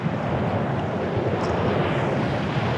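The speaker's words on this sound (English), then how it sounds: "What about the lifeguard over there on the jet ski?" A jet ski engine running near a surf beach where a lifeguard patrols, heard as a steady, loud, broadband drone that stays constant throughout with no voices.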